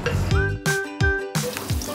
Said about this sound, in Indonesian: Jadi goreng dulu aja. Aku goreng dulu ya.